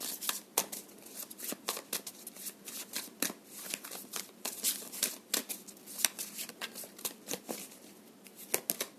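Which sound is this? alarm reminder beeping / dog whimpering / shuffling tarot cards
shuffling tarot cards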